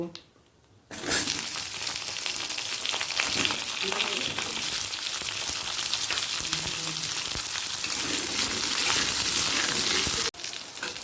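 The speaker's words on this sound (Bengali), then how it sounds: "প্রথমে পটলটাকে একটু হালকা লাল করে ভেজে নেব" Pointed gourd fries in hot oil with five-spice seeds, a loud, steady crackling sizzle that starts abruptly after a quiet moment and holds unbroken until near the end.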